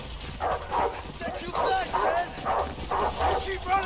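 Dogs bark in the video game A Way Out, a run of repeated barks and yips chasing close behind while a player talks over them.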